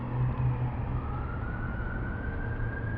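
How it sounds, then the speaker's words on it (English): A siren wails somewhere near the county ground at Essex during a live cricket match, a distant rising tone heard faintly over a steady broad outdoor rumble. "Sound of a siren somewhere near the county ground here at Essex."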